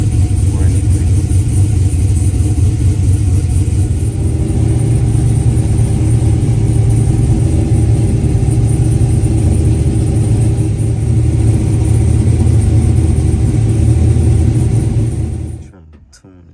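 A 1984 Oldsmobile Cutlass engine idles steadily while warming up, a loud, constant low rumble close by that cuts off near the end.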